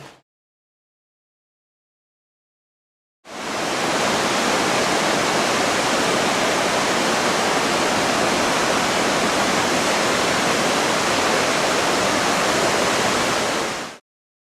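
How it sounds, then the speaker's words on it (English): A waterfall at Thunder Creek, New Zealand, roars as a steady, loud broadband rush of falling water that starts abruptly after a few seconds of silence and runs unbroken for about eleven seconds before cutting off. "this is Thunder Creek, and apparently there's some sort of waterfall here"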